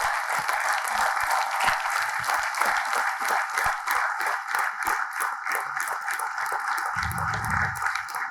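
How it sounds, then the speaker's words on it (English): A crowd at an award ceremony applauds steadily for several seconds to welcome a recipient, dense clapping with scattered individual claps standing out and a brief low murmur near the end. "let's welcome with a huge round of applause and a huge love."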